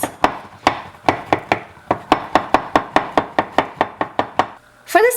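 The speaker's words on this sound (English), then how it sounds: "I'm going to take the pulp and just basically cut it with the knife. Make sure it's in little pieces." A knife chops lemon pulp into small pieces on a board, sharp rapid knocks in an uneven rhythm, close and loud, with no talk.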